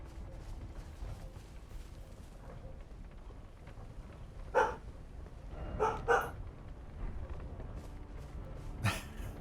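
A big dog in Elden Ring barks a few times, single and paired woofs spread across a quiet ambient background, moderately loud against low game atmosphere.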